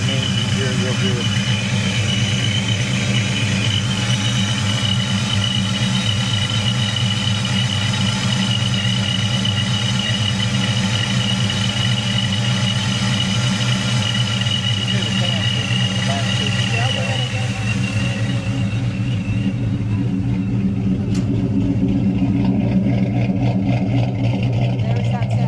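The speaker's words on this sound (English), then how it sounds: "You can hear it real well. Yeah, it's got a good whine to it." A supercharged Ford Mustang engine idles steadily and close at a car cruise block party, a thin high blower whine riding over the low rumble throughout, with people talking over it.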